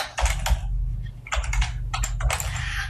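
ActionScript 3 code being typed on a computer keyboard: quick bursts of close, crisp key clicks separated by short pauses, over a steady low hum.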